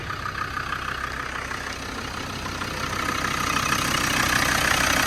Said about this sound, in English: With that lovely 5-cylinder diesel sound.